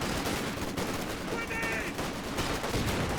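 A Maxim machine gun fires in the World War II strategy game Company of Heroes 2, with steady rattling bursts blending into dense, continuous battle noise throughout.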